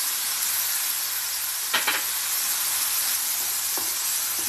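Onions and tomatoes fry in a pan for a goat brain fry, a continuous soft hiss of sizzling oil with a couple of faint utensil taps, no voices.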